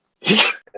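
One person sneezes once, a single quick, close burst lasting about a third of a second, followed by a brief bit of breath or a small voice sound in an otherwise quiet room.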